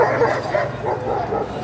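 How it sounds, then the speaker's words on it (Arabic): A fierce guard dog barks repeatedly at a market, rapid loud woofs with yips and whimpers in a steady close-up run. "زي ما انت شايف الكلب اهو"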